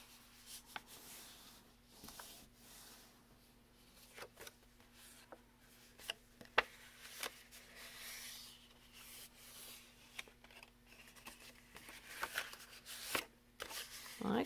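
Paper being folded for New Year's Eve crackers, soft close rustles and crisp creases in scattered bursts over a quiet background, with occasional sharper crinkles and a person talking at times.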